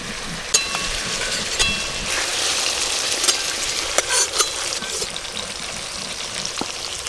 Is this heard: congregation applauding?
no